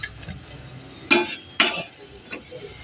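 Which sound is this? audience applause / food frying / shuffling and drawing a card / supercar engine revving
food frying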